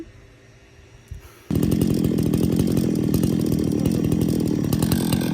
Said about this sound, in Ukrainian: І зараз ми будемо різати дрова.